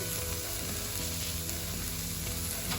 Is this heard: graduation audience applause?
no